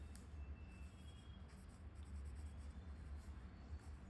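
Pen writing out a maths problem on paper, faint scratchy strokes in short bursts over a low background rumble.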